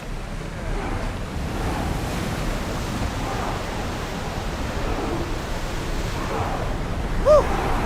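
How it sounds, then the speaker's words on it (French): Wind and ocean waves rush steadily around a sailing ship in Assassin's Creed Odyssey, a dense, even wash of surf and gusts with a brief faint tone near the end. "Vous sentez ce vent?"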